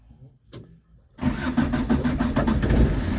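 A car engine cranks briefly on a weak battery, then catches and settles into a steady, smooth, close idle that runs to the end.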